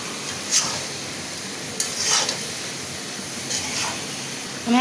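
Cauliflower and mixed seasonal vegetables fry in a pan with a steady, soft sizzle and hiss, interrupted by a few brief scraping stirs, with no talking.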